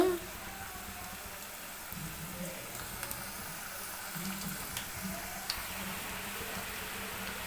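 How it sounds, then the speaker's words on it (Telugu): Onion pakoda pieces frying in hot oil, street-style, giving a steady soft crackling sizzle that stays fairly quiet and even throughout, with small pops scattered over a low background hum. "ఆయిల్ హీట్ ఎక్కిన తర్వాత మనం ముందుగా నానబెట్టుకున్న ఈ పకోడీల్ని ఇలా వేసుకోవాలి"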